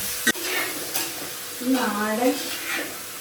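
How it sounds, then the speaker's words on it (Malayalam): Ginger, coriander and curry leaves sizzling in a pan while being stirred, with a steady frying hiss, a couple of sharp utensil knocks and a voice speaking over the cooking. "നമ്മൾ കുറച്ച് മല്ലിയില കറിവേപ്പില ഇട്ട് കൊടുത്തിട്ട് നന്നായിട്ട് ഇളക്കി കൊടുക്കുക"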